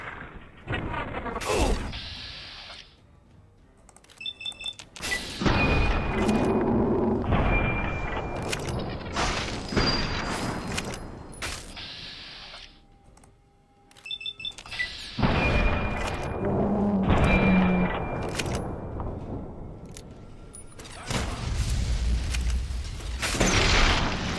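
Gunfire in Fallout 3, repeated bursts of loud shots and booming impacts across a long firefight, separated by brief lulls, with speech mixed in.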